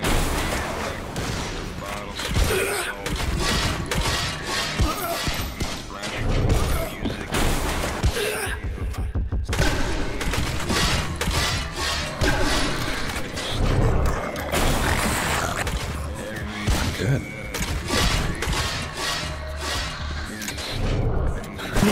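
Shotgun fire in the video game El Paso, Elsewhere, with dense, loud bursts of repeated blasts and crashing impacts running throughout, layered over heavy game noise.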